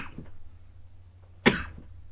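A single sharp cough bursts out close up after a quiet stretch, preceded by a couple of soft throaty sounds.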